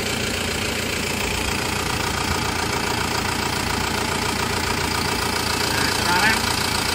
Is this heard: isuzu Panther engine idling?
yes